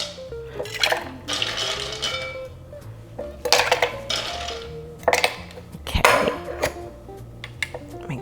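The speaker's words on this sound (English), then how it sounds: "I'm gonna give it a shake." Cocktail shaker with its lid on, shaken with ice for a mint aloe gimlet, giving several bursts of rattling and sloshing with pauses between them, close and fairly loud.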